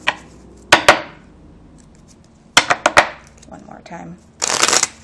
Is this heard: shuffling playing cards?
yes